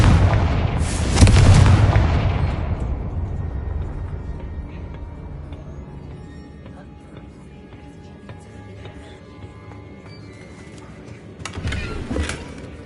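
Confringo fire spell blast in Hogwarts Legacy: a loud booming explosion early on that rumbles and decays over several seconds, then a second sharp burst near the end, with a voice calling out the spell.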